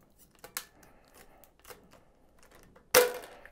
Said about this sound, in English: These are tin snips, and they just cut through this no problem.